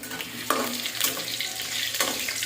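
Five pieces of potato frying in hot oil, giving a steady crackling sizzle that runs throughout with a few sharper spits and pops, fairly close and with no talking.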